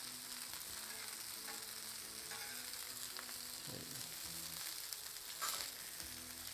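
Chicken wings fry in plenty of grease on a Blackstone griddle, giving a steady, close sizzle with faint crackles and a brief clatter near the end, with no talking.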